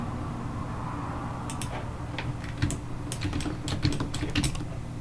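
Quick clusters of key clicks from typing on a computer keyboard, close and moderately loud over a steady low hum of room or fan noise, no speech.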